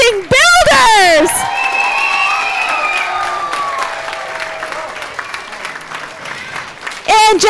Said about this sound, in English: A big round of applause to our amazing builders.